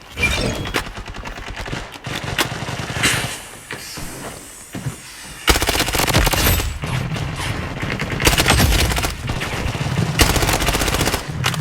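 Dense automatic gunfire fills a match of the shooter video game Blood Strike, with bursts of shots that briefly thin out and then come back as sustained, loud, rapid fire for the rest of the stretch.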